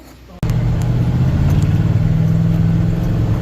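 Truck engine idling steadily after a new timing chain was fitted, starting abruptly after a brief quiet moment and then holding a loud, even, close-up rumble with no change in pace.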